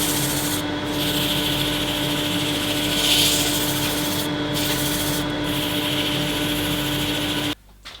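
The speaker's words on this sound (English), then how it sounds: "I'm starting to sand at around 240 grit." Sandpaper at 240 grit rubbing a turned wooden earring holder spinning on a lathe, a steady close hiss with faint motor hum running continuously before stopping abruptly near the end.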